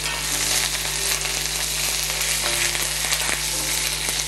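Wet curry leaves hit hot oil and spit in a dense, loud sizzle that stays steady over a low constant hum, with a few sharper pops near the end.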